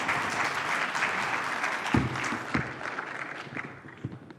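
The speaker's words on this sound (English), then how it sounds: "Let's escort her with a warm round of applause." At a summit session on AI in Africa, a conference audience applauds warmly as a speaker leaves the stage; the dense clapping, with a few louder nearby claps, thins and fades toward the end.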